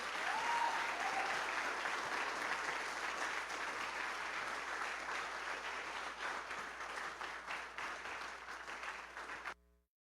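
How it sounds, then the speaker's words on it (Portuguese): Church congregation at a communion service giving a long, loud round of applause to welcome the prophet, the dense clapping running steadily and then cutting off abruptly. "Vamos então receber a nossa profeta Isadete com um forte"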